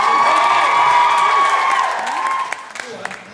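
A theatre audience at a stand-up comedy show in Kings Theatre, Portsmouth, cheering and whooping loudly, then fading into scattered shouts and claps.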